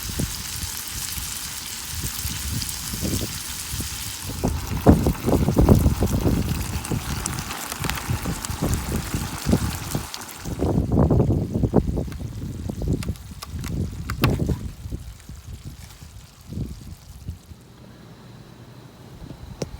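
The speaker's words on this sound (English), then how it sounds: "I am battling the wind." Wind blowing hard during a hurricane, gusting and buffeting close with rough rumbling blasts that rise and fall, easing toward a quieter hiss by the end.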